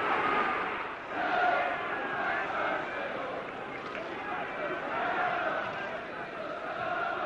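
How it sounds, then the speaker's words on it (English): A Derby County football crowd catcalls before kick-off, a dense, continuous roar of distant jeering voices at a steady moderate level throughout. "The chairman there answering the catcalls of the Derby crowd as the players prepare to kick off."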